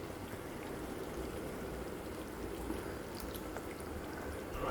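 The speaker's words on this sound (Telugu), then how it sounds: "ఇలా సైడ్ పొంచి వాటర్ పోసుకోవాలి" Water poured down the side of a pan of egg curry, a soft steady trickle and stream held at even loudness throughout, fairly quiet and close.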